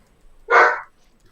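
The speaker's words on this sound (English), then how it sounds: "dog barking." A single dog bark, short and fairly loud, rising and fading within half a second, heard alone in a quiet room.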